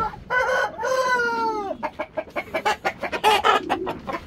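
Fighting roosters and chickens at close range: one rooster lets out a long, loud crow, followed by a fast run of sharp, rhythmic clucks.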